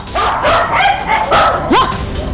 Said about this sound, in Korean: 집 밖에서 발견된 개 한 마리.